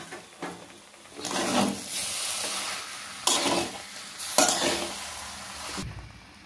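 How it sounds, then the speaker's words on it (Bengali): A chilli, tomato and green pea mixture is stirred in a hot frying pan, with loud sizzling bursts and scraping strokes coming in several waves, close up and with no talking. "এবার এটাকে ভালো করে মেশাবো।"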